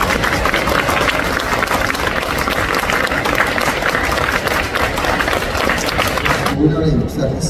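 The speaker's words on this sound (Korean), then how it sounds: "뜨거운 박수로 맞아주시기 바랍니다" Sustained, loud applause from a large audience welcoming a speaker to a special lecture at a library hall in Seoul's COEX mall, dense and even for several seconds before cutting off abruptly.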